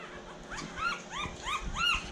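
A litter puppy, one of a pedigree breeder's three females and five males, whimpers in a string of four or five high, rising-and-falling yelps, close by and fairly loud, with no talking over them.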